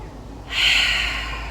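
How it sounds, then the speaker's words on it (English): A single deep cleansing breath during a Pilates release session: a short quiet pause, then a forceful, airy rush of breath close to the microphone that slowly tapers off. "take a big inhale in through that rib cage. And exhale out all the way. 2 more good cleansing breaths."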